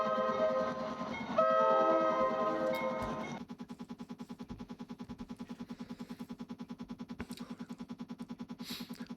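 A code-generated train horn chord sounds for a few seconds, then gives way to a rapid, mechanical rhythmic chugging that repeats steadily like electronic wheels on track.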